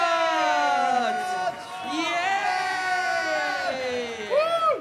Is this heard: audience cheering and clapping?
yes